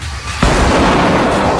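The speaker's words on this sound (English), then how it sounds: "while the flashbang grenade can be extraordinarily effective" A flashbang grenade goes off in a sudden loud blast with a sharp onset, followed by a sustained roaring, crackling wash of broadband noise that stays loud to the end.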